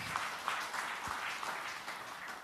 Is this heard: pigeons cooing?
no